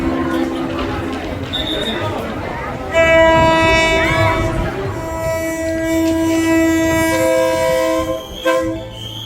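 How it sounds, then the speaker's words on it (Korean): A train arriving through the Maeklong railway market in Thailand, with a loud sustained horn blast over rumbling rail noise and crowd chatter, then a second horn sounding near the end. "그 열차 보여드릴게요 곧 들어오겠네요"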